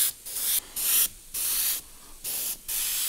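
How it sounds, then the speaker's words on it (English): Quick-drying spray paint hisses from an aerosol can onto a totem pole in a series of about six short bursts separated by brief pauses, loud and close with no voices. "you can spray it and then it's dry almost immediately to touch"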